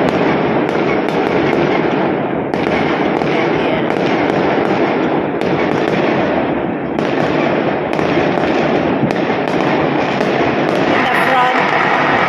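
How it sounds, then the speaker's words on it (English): Firecrackers burst nonstop at Chinese New Year in central Kuala Lumpur, Malaysia, a loud dense crackling barrage heard from a hotel with sharp pops over a continuous roar, and voices talking beneath it. "You can hear very noisy the surroundings. All the firecrackers."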